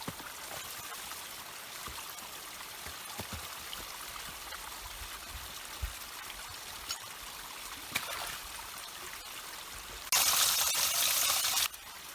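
A creek flows steadily in winter snow country with a continuous trickling, babbling wash of water, fairly close, briefly swelling into a louder gush near the end.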